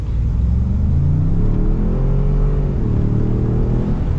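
A 2022 Ford F-150 Tremor accelerates hard at about 4,500 feet elevation on a closed course, its engine rumbling steadily and rising in pitch, heard from inside the cab with no talking.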